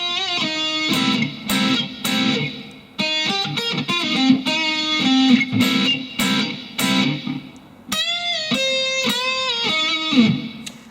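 Electric guitar plays a strummed chord part, with a bright, distorted tone in repeated rhythmic chord hits and short pauses, heard alone and clearly.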